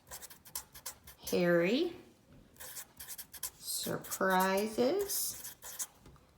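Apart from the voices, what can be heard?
writing on a graphic organizer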